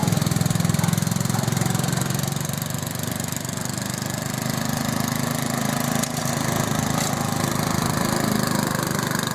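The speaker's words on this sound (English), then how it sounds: "I'm going to see if I can get the other red tractor started" A steady low engine drone runs throughout, loud and close, with a continuous rumbling idle and no voices.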